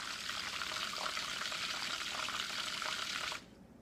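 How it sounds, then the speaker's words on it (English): A battery-powered Vortex blender cup spins steadily with a soft, even whirring hiss that stays constant for several seconds, then cuts off abruptly near the end, leaving quiet. "So you press this button and it will spin like so."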